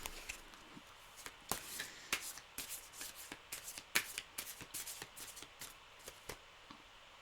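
A deck of playing cards is shuffled close by, giving a quick series of crisp riffling and snapping flicks in irregular bursts with a few sharper slaps, and no voices.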